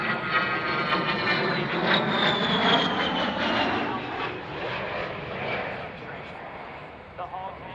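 An A-10 Warthog attack jet with two TF-34 turbofan engines roars loudly overhead, a broad sustained engine rush that shifts in pitch as it passes and slowly fades, with a voice speaking over it.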